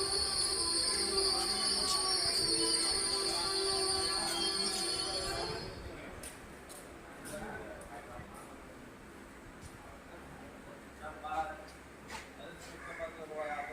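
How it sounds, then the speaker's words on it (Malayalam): The Kannur–Shoranur Express special train pulls out of Tanur railway station, a loud rolling rumble with a high metallic wheel squeal that fades out, leaving softer clattering and rail noise while someone talks over it. "നമ്മുടെ ട്രെയിൻ അങ്ങനെ വീണ്ടും താനൂർ റെയിൽവേ സ്റ്റേഷനിൽ നിന്ന് പുറപ്പെട്ടിരിക്കുകയാണ്."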